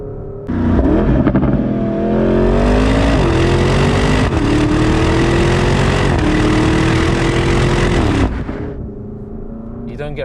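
A Porsche Turbo GT engine revs up hard and loud on downshifts, its pitch climbing and blipping through several quick shifts of its torque-converter gearbox, then settling back toward idle.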